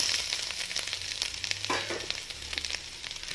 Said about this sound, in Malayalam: ഇളക്കി യോജിപ്പിക്കുക നമ്മളിതൊക്കെ ലോ ഫ്ലെയിമിൽ തന്നെ ചെയ്യണം